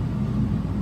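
A fan runs steadily in a workshop where an old Charles Parker Company vise sits, giving a continuous low broadband rumble and whoosh with no talk.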